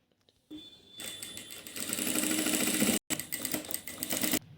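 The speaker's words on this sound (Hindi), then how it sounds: "उसको भी इस तरह से रखते हुए पैर पैर की सिलाई लगा देंगे" Close, rapid mechanical whirring of a sewing machine running a seam along a fabric strip. One continuous burst stops briefly once and then resumes.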